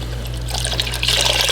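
Cold stock pours into a seafood gumbo roux as a brief, steady liquid trickle and splash over a constant low hum.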